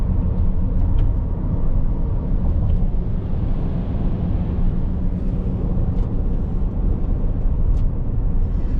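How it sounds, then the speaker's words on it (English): Heavy brick trucks, some with boys riding on the back, driving on a road in Phnom Penh, a steady loud engine rumble and road noise filling the whole stretch without pause. "A couple of brick trucks were coming up."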